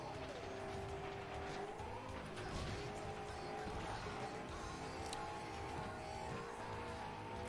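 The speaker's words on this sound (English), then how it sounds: "It's like the same V8 noise, but slightly lower pitch or slightly higher pitch." V8 car engine in the arcade racer FlatOut: Ultimate Carnage, a continuous droning roar with shifting pitch, tire squeal and skidding, at moderate level.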